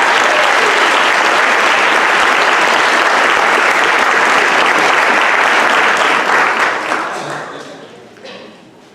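An audience at a 2019 school sports awards event gives loud, sustained applause for an MVP winner, dense clapping that holds steady and then tapers off toward the end.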